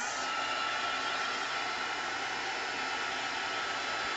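A handheld heat gun or hair dryer blows steadily on paint on a mixed media tag with black gesso and Art Alchemy paints, a loud, unbroken broadband whoosh that holds constant from start to finish with no talk.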